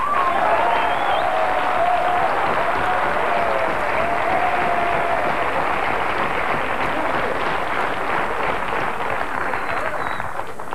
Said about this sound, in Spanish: voy a pedir un fuerte aplauso